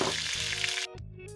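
Ribs and onion fry in a pan with a steady, loud, close sizzle that drops slightly in level near the end as the food is stirred and turned.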